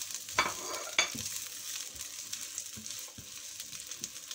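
Onion and garlic frying in a pan, giving a faint steady sizzle with a few stirring clinks and scrapes near the start, close and without talk.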